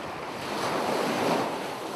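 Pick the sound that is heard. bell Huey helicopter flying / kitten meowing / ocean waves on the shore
ocean waves on the shore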